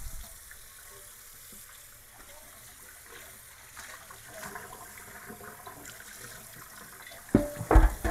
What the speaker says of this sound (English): now we want to bring it into the sink and give it a good rinse